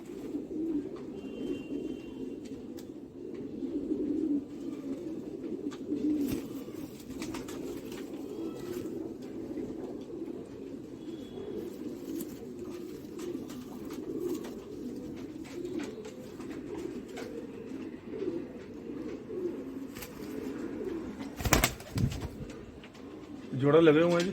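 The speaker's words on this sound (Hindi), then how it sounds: "ये शाहिद भाई का कबूतर है, मादी मैंने 2 ली थी आगे से" Tonk breed pigeons in a breeding loft coo in a continuous low, soft murmur that carries on throughout, with faint background noise and a brief clatter near the end.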